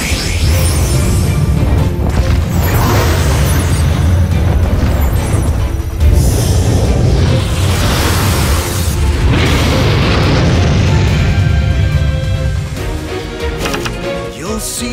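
Loud, dense explosive crashes and booms from a Yu-Gi-Oh! Duel Links monster effect destroying a card, a continuous heavy burst of game sound effects and music filling the whole stretch, easing off slightly near the end.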